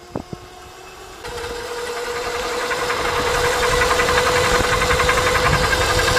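An electric BMX bike motor winds up to its top speed of about 22 to 23 mph, a steady whine that climbs in pitch and grows louder with road rumble and vibration.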